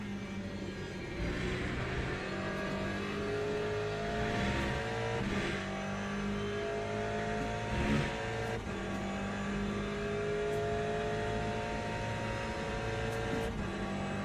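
Hypercars and GTE race cars battle at Silverstone in a WEC race, engines droning continuously with rising and falling pitch as cars accelerate and pass, a steady loud roar with no talking.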